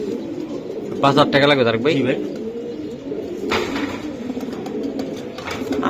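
Racing pigeons coo in close, throaty bursts, most clearly near the start, while men bargain over prices in the foreground.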